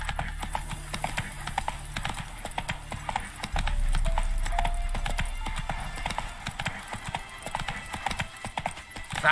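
Roach the horse gallops in The Witcher 3 video game, rapid hoofbeats clattering in a quick even rhythm close by, over a low rumble of in-game ambience.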